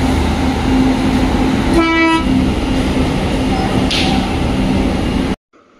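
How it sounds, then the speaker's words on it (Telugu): The Charminar Express pulling into Vijayawada station at midnight, a loud, sustained rumble of the moving train with one short horn toot partway through and a brief high tone after it. "రాత్రి 12 గంటలకి విజయవాడకి అయితే ఈ ట్రైన్ వచ్చిందండి. ఇది చార్మినార్ ఎక్స్ప్రెస్"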